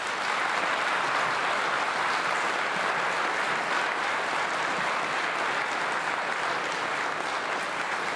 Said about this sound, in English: Please give a big round of applause to Representative Wills.